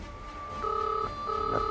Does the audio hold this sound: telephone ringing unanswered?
yes